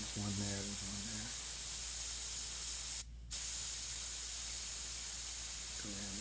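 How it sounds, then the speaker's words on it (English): Airbrush spraying paint over frisket while painting a realistic cat's eye: a steady close hiss runs through nearly the whole stretch, with a short break near the middle and brief talk at the start and end. "I'm spraying on the frisket a little bit, and I'll clean that up so you can see the shape."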